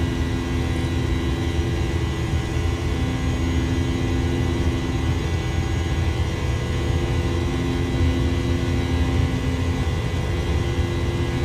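Airbus A320 jet engines at takeoff thrust in a flight simulator game, a loud, constant low roar with a steady whine layered on top, with no talking.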